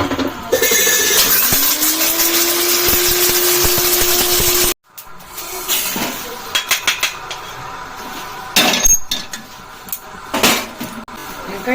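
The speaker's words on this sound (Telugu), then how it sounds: "ఇవి వేయింపుకుంటూనే మిక్సీ కూడా పట్టేసుకుంటున్నా" A mixer grinder grinding roasted curry masala spices whirs loudly and steadily for several seconds, then cuts off abruptly, followed by clattering kitchen noises and a voice.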